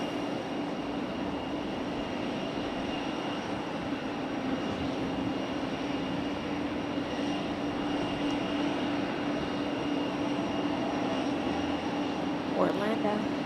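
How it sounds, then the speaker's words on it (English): An Airbus A319 airliner lines up on the runway at Raleigh-Durham airport, its engines a steady distant whine and rumble that hold constant, with faint voices underneath. "our A319 lining up on the runway"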